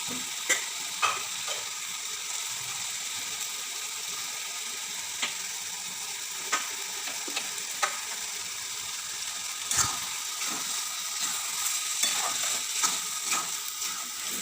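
Fried potatoes sizzle in a pan of banana flower curry, a steady hiss with occasional sharp clicks of a utensil against the pan.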